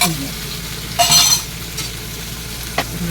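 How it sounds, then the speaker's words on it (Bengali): Small pieces dropped into a little hot oil sizzle steadily in a Bengali home kitchen, with a brief louder burst of frying and a sharp clink of a utensil near the end. "একটু তেল দিয়ে দুটো টুকরা টুকরা করে তেলে নাচবো।"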